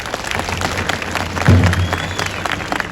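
An audience claps to welcome a guest at a political support gathering in Midyat, Turkey. The applause is steady and moderately loud, with a brief louder swell in the middle and faint voices mixed in.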